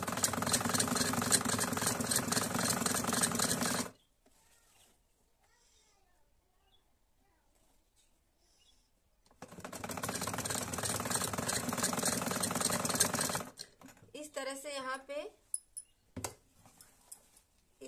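Sewing machine stitching a band collar on a kurti, running in two loud sustained bursts with a quiet pause between, then brief clicks and short whirs; no talk in between.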